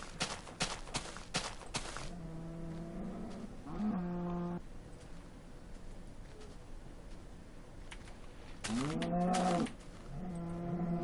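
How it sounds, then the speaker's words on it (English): Several cows in Minecraft Alpha moo in two clusters of low, drawn-out calls, one around the two-to-four-second mark and a louder group near the end, over faint clicky game noise with no talking. "And there's all these cows."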